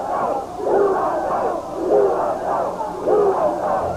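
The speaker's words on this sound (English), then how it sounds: "the crowd chanting USA" A wrestling crowd at a Memphis 4th of July show chants USA in a rhythmic, repeated two-beat pattern, loud and echoing through the arena, with three clear chant cycles.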